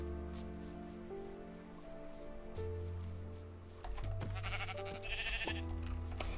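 Cartoonish sheep bleats rise over a steady, looping game soundtrack, with several overlapping baas toward the end.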